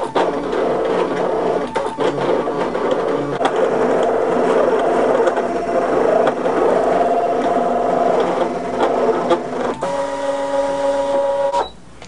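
A Brother ScanNCut machine cuts a stamp with a deep cut blade, giving a steady mechanical whirring and buzzing with clicking carriage movements, then a few distinct stepped motor tones near the end before it stops.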